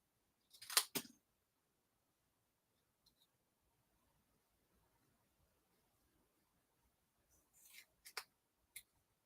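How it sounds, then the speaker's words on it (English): Scissors snip through paper cards in a few short bursts, a pair of crisp cuts near the start and another cluster near the end, with near-silence between and no talking. "That's a lot of cutting, guys."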